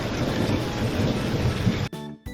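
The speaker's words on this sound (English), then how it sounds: "Drizzle, light rain falling softly." Rain falling in a steady, dense hiss that stops abruptly near the end, leaving only brief faint tonal sounds.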